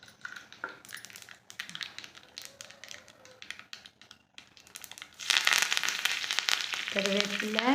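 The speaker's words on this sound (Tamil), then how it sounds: "கடுகு சேர்த்திக்கலாம். கடுகு நல்லா பொரிய விட்டுடலாம்." Mustard seeds hit hot oil in a pan for a Tamil brinjal dish: soft scattered ticks at first, then a sudden busy burst of spluttering and crackling that keeps popping loudly.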